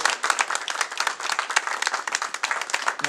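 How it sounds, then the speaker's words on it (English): Audience applause for poet Nancy Carol Moody at a reading, a moderate crowd with distinct individual claps forming a dense, even patter that continues throughout. "Let's have another round of applause for Nancy Carroll Moody"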